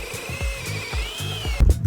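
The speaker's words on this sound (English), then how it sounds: "Drilling at the center of the holes for the deadbolt and latch, we then used the step bit to slowly drill the hole size up to 1 inch." A step drill bit cuts a hole up to 1 inch for a deadbolt in a metal bus door during a bus conversion, with short repeated grinding bursts and a whining tone, then a louder clunk at the end.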